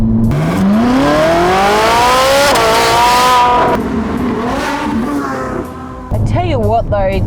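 A Ferrari 458 Italia engine revs hard while driving, its loud, rising whine climbing through the gears with a brief shift dip and rev blips near the end, as people talk inside the car.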